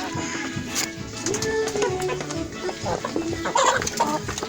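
Hens cluck on a poultry farm, a busy stream of short, irregular clucks and murmurs from several birds nearby, with some louder calls toward the end and no clear talking.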